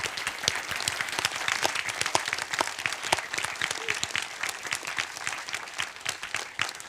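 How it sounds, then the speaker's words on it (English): An audience at the code::dive 2023 programming conference applauds after a presentation, with dense, sustained clapping from many hands that carries steadily throughout at moderate volume. "I can clap for you too."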